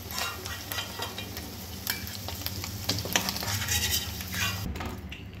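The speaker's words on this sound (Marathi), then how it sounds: "त्याच तेलामध्ये आपण कांदा आता तळून घेऊ।" Onion frying in oil left over from browning paneer for a paneer korma, a steady close sizzle with occasional stirring scrapes and light pan knocks, no voices.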